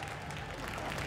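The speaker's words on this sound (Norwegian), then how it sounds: "En stor applaus for Anonym!" Brief burst of crowd applause and cheering for a contest winner at The Gathering 2013 computer party event, steady dense clapping filling the short moment at moderate volume.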